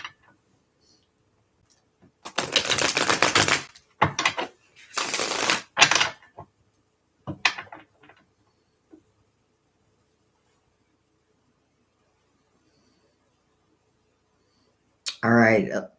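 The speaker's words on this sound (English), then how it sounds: "Give it one more shuffle." A deck of tarot cards is shuffled in several quick riffling bursts, crisp papery flutters separated by short pauses, then a brief rustle near the end.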